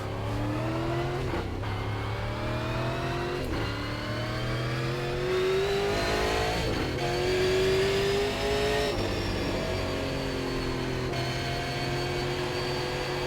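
Super late model race car lapping the steep Five Flags oval in the iRacing sim, a loud continuous engine drone rising and falling with each throttle lift and acceleration, alone without talk.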